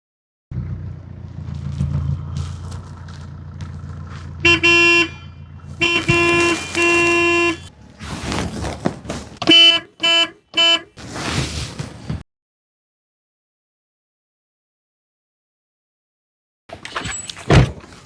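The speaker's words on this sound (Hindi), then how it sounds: "तुझे हॉर्न नहीं सुनाई दे रहा है?" A car horn honks in a street scene: several bursts of blaring, tonal toots of varying length, some short and some held, loud and close, followed by silence and a brief final beep.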